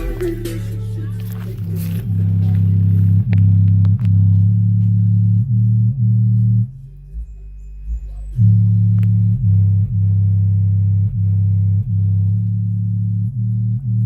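Fifteen bare subwoofers mounted on an open baffle, not yet boxed, pound out loud, steady deep bass tones with a rhythmic pulse, briefly dropping off mid-way before resuming at full volume.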